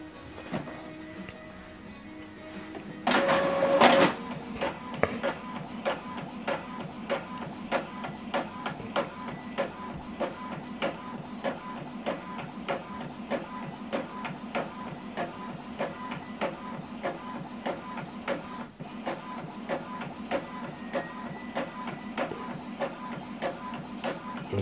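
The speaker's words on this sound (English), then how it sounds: "this document, okay, is going to print out now colored double-sided" An Epson printer prints a colour document double-sided: a close, continuous mechanical hum with a rapid, regular ticking of the print head shuttling, plus a brief louder whir of paper feeding early on.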